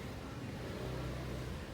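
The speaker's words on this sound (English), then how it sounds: "You hear the revving of the engine?" A car engine revs at a steady, low rumble somewhere off at a distance, faint and continuous with no clear rises or drops, and no one speaking over it.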